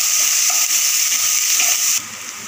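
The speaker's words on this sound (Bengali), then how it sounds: "ভালোভাবে ফ্রাই করে নেবো নারকেল কোড়াটা।" Grated coconut sizzles steadily in hot refined oil in a wok, a loud, even frying hiss that suddenly drops to a softer sizzle near the end.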